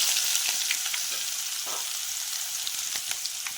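Onion hits hot oil already tempered with cumin, mustard seeds and cloves for a rajma dish, giving a loud, steady hiss with light crackles and pops throughout.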